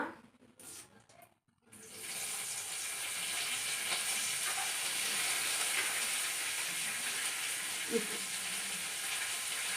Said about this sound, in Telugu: కరివేపాకు కూడా వేసేసుకుంటున్నా